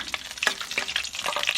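Dried red chillies hit hot oil in a pan and crackle and sizzle loudly in quick bursts, up close with no talking.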